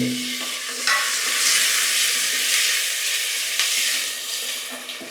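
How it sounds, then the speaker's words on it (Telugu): Tomato pieces fry in hot oil with a loud, continuous sizzle and hiss, with brief crackling bursts, close up. "ఆయిల్ కొంచెం వేడెక్కడిద్దాం టమాటా ముక్కలు వేసుకోవాలి"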